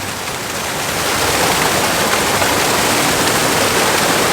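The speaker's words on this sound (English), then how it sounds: "legit going near the waterfalls. Like super heavy, yeah, super heavy." Marmala waterfall in Kerala roars in a dense, steady wash of falling water, loud and close, building slightly in the first second and then holding constant, with no voices.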